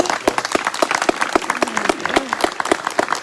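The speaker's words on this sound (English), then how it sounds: "Please give them a round of applause" Steady applause from a conference audience for two football players, with distinct individual claps in a quick, irregular rhythm, close and fairly loud throughout.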